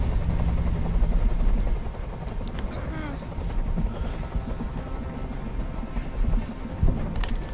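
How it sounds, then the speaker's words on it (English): A helicopter hovers in the video game Detroit: Become Human, its low rotor drone steady under the scene's ambience while characters talk over it. "Tell that helicopter to get out of here."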